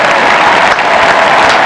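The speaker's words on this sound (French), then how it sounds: "Et Nelson Payou, de la cabine de commentateurs, applaudit le président." Loud, sustained applause from a big stadium crowd at the 1992 Albertville Winter Olympics closing ceremony, a thick, even roar of clapping that holds steady from start to finish.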